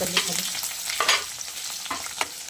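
Green chilies tossed into garlic browning in hot oil, a close, steady sizzle and crackle broken by scraping stirs of a spatula, with no talking.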